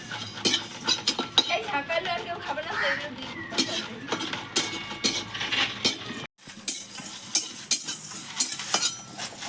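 Dry spice mix being fried for vegetable chops, with busy metallic scraping and clinking of a spoon against the pan over a faint sizzle, and a voice speaking underneath with a brief break near the end.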